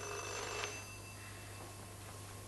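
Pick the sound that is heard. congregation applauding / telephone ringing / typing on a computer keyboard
telephone ringing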